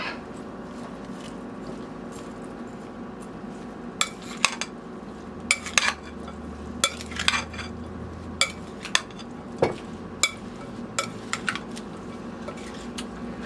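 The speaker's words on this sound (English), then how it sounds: "My spoon, I'm going to stir this up a little bit." A spoon stirs a northern bean salad in a bowl, giving a series of sharp clinks and taps against the dish, irregular but frequent, close and fairly loud over a quiet background.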